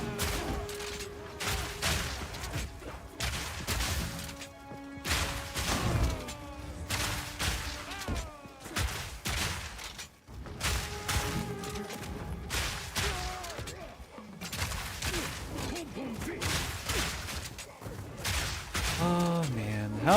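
Fragmentation Shot, a shotgun-like skill in Path of Exile 2, fires repeatedly in dense, punchy blasts layered with game effects and music, recurring in clusters over a long, busy stretch with a voice speaking intermittently.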